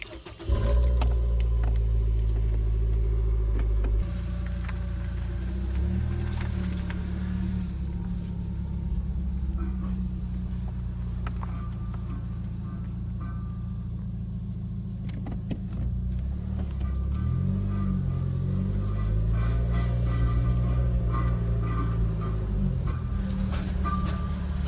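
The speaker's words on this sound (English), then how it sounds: "This is what the car sounded like." A 2013 Nissan Versa idles with a damaged exhaust, giving a steady low rumble and drone close to the microphone, with a few light metallic rattles and a slight rise in engine pitch partway through.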